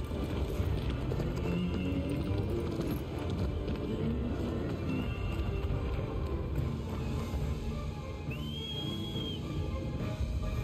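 Horse hooves clip-clop in Shadow of the Colossus, a rapid running rhythm under constant game ambience, with a faint whistle-like tone near the end.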